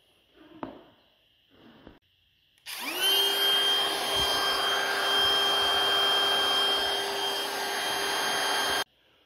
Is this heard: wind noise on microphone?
no